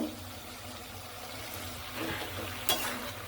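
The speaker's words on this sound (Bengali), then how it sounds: "এটা আমি ভালো করে সবজি আর চিকেনটা ভালো করে মিশিয়ে নিচ্ছি, এটা একটু ভাজা হবে" Chicken and vegetable momo filling is stirred in a pan, a soft sizzle with faint scraping and a brief clink of the spatula, quiet and close, with no voices.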